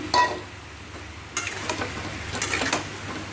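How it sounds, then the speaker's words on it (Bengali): An egg is added to a hot pan for egg curry, with a brief clatter followed by scattered crackling and light sizzle, utensils knocking against the pan nearby. "এই যে ডিমটা দিয়ে দিচ্ছি"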